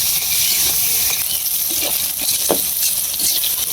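Food sizzling steadily in a hot pan with occasional stirring scrapes, close and constant.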